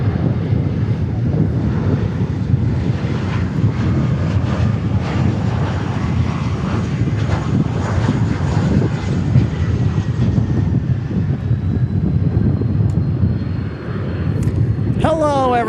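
An Embraer E175 jet at Dallas Fort Worth Airport gives a steady, moderate engine rumble with a faint whine, fairly close and unbroken, ending with a brief sharp sweeping tone.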